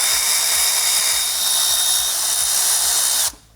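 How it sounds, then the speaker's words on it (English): Pneumatic impact wrench or power ratchet loosening 9/16 bolts on a Fox Body Mustang engine during a shorty header install, a loud steady whir with rhythmic ratcheting pulses running continuously, then cutting off abruptly near the end. "All right, so now we just get to loosen all these bolts. 9/16."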